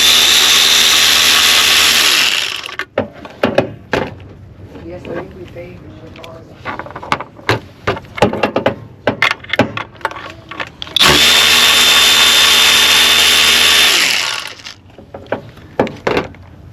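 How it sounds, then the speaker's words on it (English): Bursts of an electric ratchet with a 10mm shallow socket on a swivel remove nuts during a tune-up on a 2005–2010 Honda Odyssey with the 3.5 VTEC engine: two sustained loud whirring runs separated by scattered clicks and clatter, close up. "I made short work out of that with a simple 10mm shallow socket, swivel, electric ratchet"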